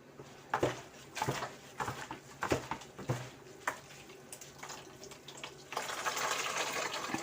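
Coconut milk is squeezed by hand from grated coconut and poured while making homemade coconut oil; irregular wet splashes and drips give way to a steadier trickling pour near the end.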